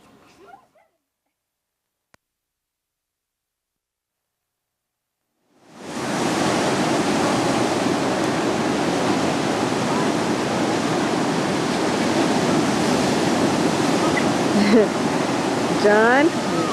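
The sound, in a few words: ocean waves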